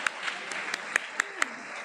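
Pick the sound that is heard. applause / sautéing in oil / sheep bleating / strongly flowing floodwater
applause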